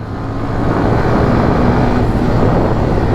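A Hero Xtreme 125R motorcycle riding on the road, with a loud, steady engine and wind roar that builds briefly at the start and then holds at an even level.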